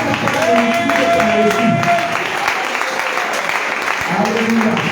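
A church congregation bursts into loud applause and cheering during worship, with voices calling out over the clapping throughout.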